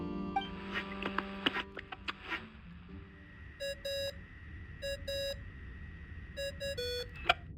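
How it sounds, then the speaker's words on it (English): Phone ringing tone in the video game Genshin Impact: a run of clear electronic beeps in short repeating bursts. Earlier clicks and tones sit under it, and the ring plays alone without speech. "I really hate that ringing tone."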